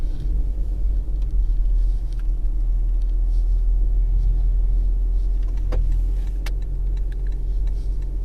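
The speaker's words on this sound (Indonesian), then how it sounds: "karena baterainya itu kan isinya sedikit, jadi mesinnya hidup" A Toyota hybrid car's petrol engine starts up, a steady low rumble and idle hum that fills the cabin, with a couple of brief clicks near the end and no talking.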